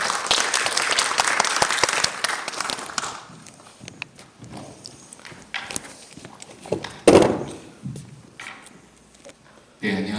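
Audience applause welcoming a professor to speak at an education policy symposium, a loud burst of clapping for a few seconds that fades into scattered crowd noise, footsteps and some talk.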